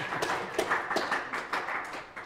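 A small audience at a RITSEC security conference claps in a brief, irregular round of applause, close and moderately loud.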